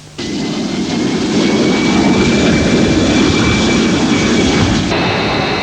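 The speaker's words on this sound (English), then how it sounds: "The jets roll onto the taxiway at 2 minutes to 4." RAAF Mirage jet fighters taxiing in pre-dawn darkness: loud, steady jet engine roar with a high whine, sustained throughout and close by, and no voices.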